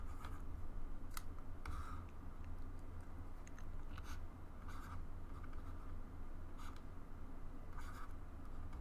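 A hand writes on paper, steady scratching strokes with short bursts and pauses over a low constant hum, no talking.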